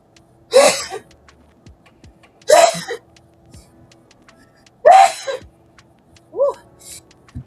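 Four sharp sneezes in a row, spaced a couple of seconds apart, close and loud with quiet gaps between.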